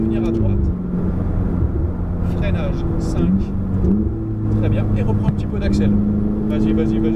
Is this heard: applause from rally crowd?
no